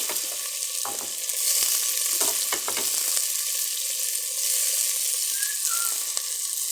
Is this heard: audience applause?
no